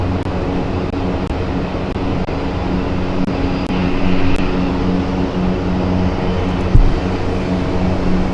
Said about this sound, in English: Turkish Airlines, Istanbul flight.